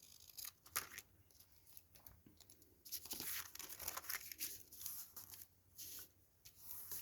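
Craft material being cut and handled for a snow-themed project, with quiet close crisp snipping, tearing and crinkling sounds coming in irregular bursts.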